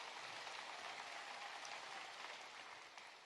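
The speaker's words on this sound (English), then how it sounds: "That does deserve an applause." A crowd at a high school rally applauds in a soft, distant, continuous patter that holds steady and thins slightly at the end.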